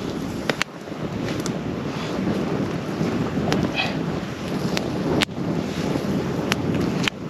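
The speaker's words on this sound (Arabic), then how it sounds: "كاين شويه د الريح هنايا" Steady wind roars and buffets a microphone outdoors, a constant rushing noise broken by a few sharp clicks and knocks.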